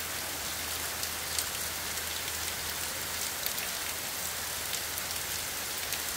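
Rain falls steadily on dry leaves, a dense, even patter of countless drops with no voices over it.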